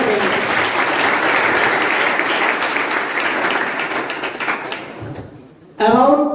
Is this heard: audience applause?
yes